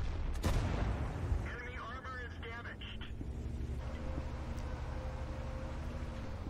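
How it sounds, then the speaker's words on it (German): A tank cannon fires in World of Tanks with a heavy boom near the start, followed by rumbling engine noise and someone speaking German over it. "Und da kann er jetzt schön drauf schießen auf ihn."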